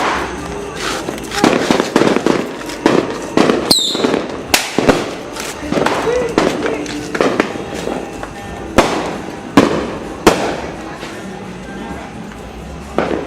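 Sharp piccolo firecracker blasts go off one after another at uneven intervals, loud and close, at a New Year party, with people chatting in the background between bangs.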